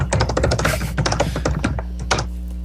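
Rapid, close typing on a computer keyboard, a dense run of crisp key clicks and thumps that keeps going for a few seconds, then breaks into scattered taps near the end.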